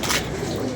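Soft, low pigeon coos murmur close by, a brief burble of birds with faint background noise.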